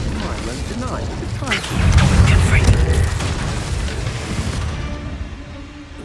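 An Incendio fire spell in Hogwarts Legacy bursts with a heavy whooshing boom and crackling impacts that swell mid-clip and then fade, with a voice speaking over it.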